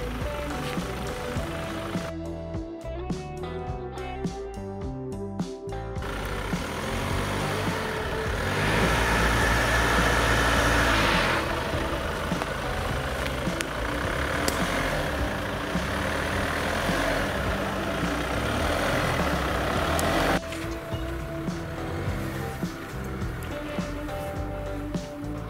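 A Kia Sorento Prime car drives with a continuous engine hum and road noise from inside the cabin, a louder rushing stretch in the middle, with a faint voice at times.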